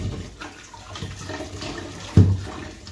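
Water poured and splashed while hand-washing churned butter to make ghee at home, a close running, sloshing sound with a brief louder splash midway, no talk.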